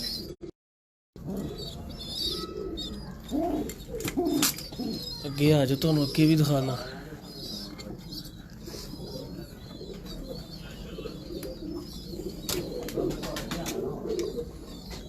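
Teddy pigeons in a breeding loft, cross-paired with a Magar hen and raising chicks, coo in low rolling bursts, loudest midway, while someone talks over them.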